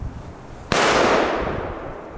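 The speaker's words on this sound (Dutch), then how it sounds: "Nee, die knalde echt heel goed." One loud firecracker bang goes off outdoors, a sudden sharp blast whose echoing tail decays slowly over more than a second.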